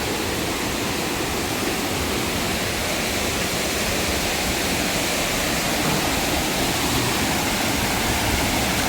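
A waterfall near Mallapuram roars in a dense, steady rush of falling water, loud and unbroken with no other sounds.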